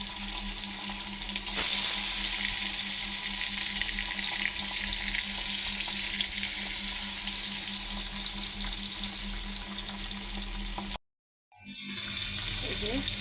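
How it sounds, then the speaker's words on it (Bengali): Pabda fish frying in hot oil gives a loud, continuous close-up sizzle and crackle that carries on steadily, broken by one brief cut near the end before resuming. "এই যে মাছ ভাজতেছি"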